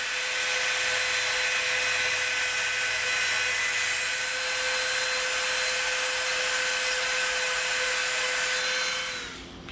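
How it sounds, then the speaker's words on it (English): Dremel rotary tool grinding contact cement residue off EVA foam, a loud, close, steady high-pitched whir held without a break for nearly ten seconds before winding down at the end; no voices. "you come in with the Dremel and just smooth it right out"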